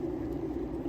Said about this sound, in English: That sound is the exhaust from the hot water heater.